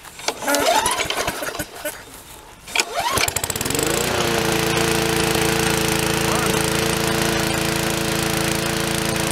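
A Murray lawn mower engine is pulled over with a few rough, sputtering tries, then catches and settles into a loud, steady running drone.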